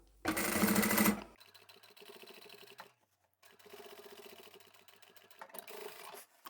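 A sewing machine stitching fabric scraps onto stabilizer, a loud close burst of whirring, then quieter steady stitching runs broken by a brief pause, with rhythmic rattling needle clicks.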